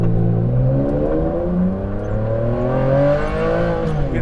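A Ferrari Enzo engine pulls away from a standstill, climbing steadily through the revs with rising harmonic tones, loud and close throughout.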